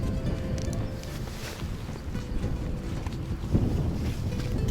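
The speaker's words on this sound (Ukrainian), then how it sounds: "Вітер, вітер, дощ просто." Steady outdoor wind roar with broadband rushing noise, likely mixed with rain, continuous and fairly loud, with no voices, beside a fishing lake in Burshtyn, Ukraine.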